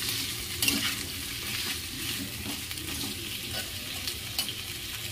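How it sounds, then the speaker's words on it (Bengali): Beans, papaya and other vegetables frying lightly in a pan, a steady close sizzle with soft intermittent stirring scrapes, moderate level, no one speaking. "সব এক এক করে মোটামুটি সবজিগুলো দিয়ে দেব বিনস খুব একটা ভাজবো না হালকা করেই ভাজবো"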